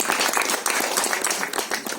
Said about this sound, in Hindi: तो फिर से जोरदार तालियां।